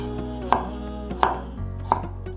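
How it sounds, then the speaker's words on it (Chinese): A knife cuts small cucumbers into diagonal slices on a board, three sharp, separate chops about two-thirds of a second apart, close and clear with nothing else heard. "把小黄瓜切斜片"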